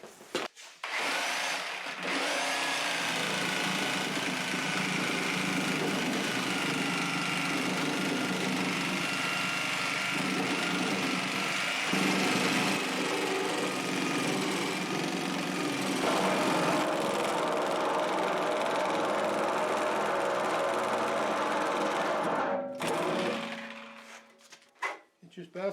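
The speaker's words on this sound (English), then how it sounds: "It just bounces so much that the saw is not cutting it." A reciprocating saw with a coarse six-tooth-per-inch blade cutting a flat tyre, buzzing and rattling steadily for over twenty seconds before stopping, with the blade bouncing against the rubber; a voice talks briefly over it.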